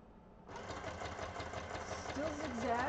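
A sewing machine stitches a zigzag on vellum, starting abruptly after a quiet moment and running in a fast, steady whirring rhythm close by, with faint speech underneath.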